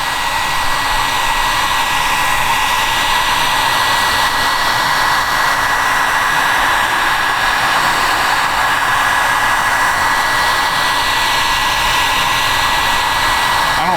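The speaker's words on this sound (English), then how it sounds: "So since the flame didn't work, we have a heat gun." A heat gun runs on its high setting for the whole stretch, a loud, steady, close roar of blowing air with a faint whine on top and no change or break.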